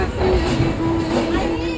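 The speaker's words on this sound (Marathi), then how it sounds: "बरोबर 12:20 आपली ट्रेन निघाली आहे" An Indian Railways train pulls out of Bandra station in Mumbai, a steady rumble with a faint sustained squeal and soft clatter; muffled voices murmur underneath.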